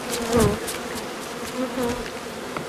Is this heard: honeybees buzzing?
yes